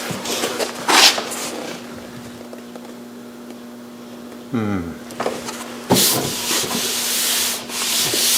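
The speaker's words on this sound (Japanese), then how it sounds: "あとはまたペーパーかけて" Fir wood tabletop parts are rubbed down with sandpaper in a workshop, giving a few broad, hissing scrapes in short bursts, one early and a longer stretch near the end, with quiet gaps and a brief voice between.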